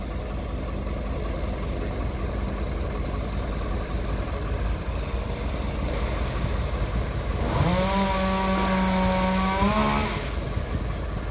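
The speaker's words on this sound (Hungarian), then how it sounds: "hajnalban halljátok, hogy fűrészelnek." A chainsaw revs up to a loud steady whine after an ice storm in Dunaharaszti, cutting for a couple of seconds over a constant rumbling background of distant engines.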